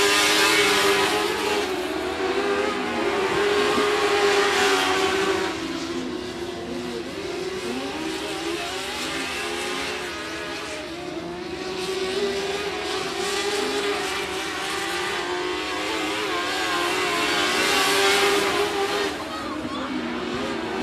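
Stock race cars roar down the backstretch at 105 Speedway, a dense, sustained engine drone swelling and fading as cars pass, with a track announcer talking over it throughout.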